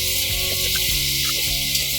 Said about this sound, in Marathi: आणि या फोडणीत हे छान असे परतायचे आहेत आपल्याला